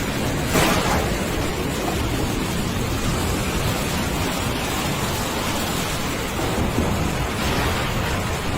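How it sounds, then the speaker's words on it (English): A night thunderstorm pours steady, dense rain that patters against windows, with a muffled rumble of thunder early on under the constant hiss of the downpour. "I was woken by thunder and rain splattering on the windows"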